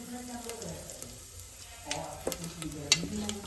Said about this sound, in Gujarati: પછી આખા મસાલા એ જ તેલમાં એડ કરી દેશું